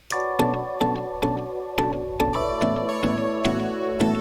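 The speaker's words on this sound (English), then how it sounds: "I'll play these chorus chords right quick" Bright synth chords with an 80s character play in a steady rhythm, each chord struck with a sharp attack against a repeating tick.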